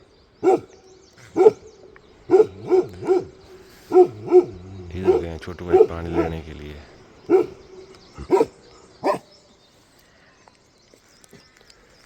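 Dogs bark in short, repeated bursts, fairly close, at a Gujjar Bakarwal herders' night camp in freezing cold, with someone talking between and over the barks before it goes quiet.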